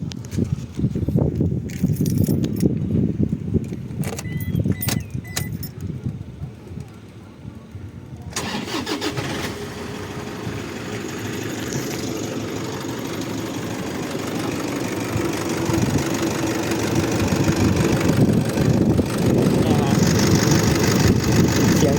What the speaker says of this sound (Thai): เรามาฟังเสียงเครื่องยนต์กันนะครับ